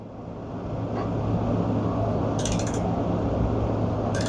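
A wrench turns a loose nut on a Honda small engine, producing a steady close mechanical grinding and creaking with faint ratchet-like texture and a couple of brief high metallic squeaks.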